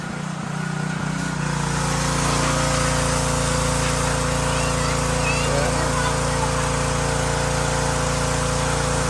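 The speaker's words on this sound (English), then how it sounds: "She wants to clean her rugs, so got the power washer out." A power washer blasts rugs clean, a loud, steady motorized roar that holds without a break from start to finish, with only a faint rise at the very start.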